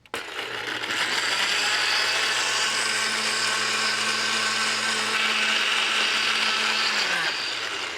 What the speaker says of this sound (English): Puree these ingredients in a blender.